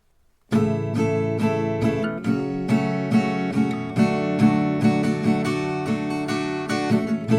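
An acoustic guitar strums four even downstrokes per chord in a regular pulse, chords changing every few beats, close and clear with no voice.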